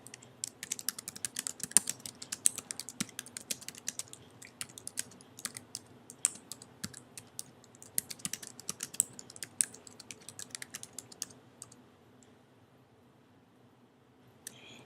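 Quiet, steady tapping on a computer keyboard as someone fills in a field on an online service request form, brisk bursts of key clicks that stop near the end.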